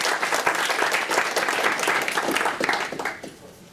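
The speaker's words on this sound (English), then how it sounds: "let's give a round of applause for him" An audience at a wind and solar energy discussion breaks into applause, a dense, steady wash of many hands clapping together that holds strong before tapering off at the end.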